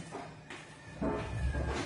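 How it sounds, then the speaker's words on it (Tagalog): A cat meows a couple of times nearby, soft and drawn out, against a quiet room background. "Gutom na yung pusa."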